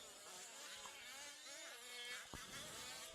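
A small RC race car engine whines at Robinson RC Raceway during a race, with a thin, buzzing, pitch-shifting drone that rises and falls as the car speeds around the track under a steady background hum.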